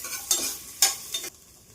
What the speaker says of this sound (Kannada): ಈಗ ಇದಕ್ಕೆ 1 ಚಿಕ್ಕ ಗೆಡ್ಡೆ ಬೆಳ್ಳುಳ್ಳಿ, ಶುಂಠಿ 1 ಇಂಚು, ಚಕ್ಕೆ ಲವಂಗ ಹಾಕಿ ಸ್ವಲ್ಪ ಫ್ರೈ ಮಾಡ್ಕೊಳ್ಳೋಣ.